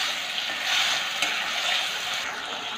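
Potatoes frying in a pan with a steady, even sizzle and occasional stirring scrapes, close and moderately loud throughout, with no voices.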